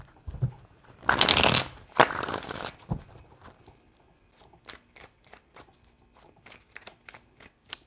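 Tarot cards being shuffled: a couple of dense riffling bursts followed by a string of light, crisp card snaps and taps.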